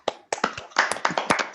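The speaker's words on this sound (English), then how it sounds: "Can I have everybody come off of mute and just give Patrick a round of applause?" An online audience claps over a video call, giving a brief, uneven round of applause made of scattered sharp hand claps that start, pause, then continue quietly.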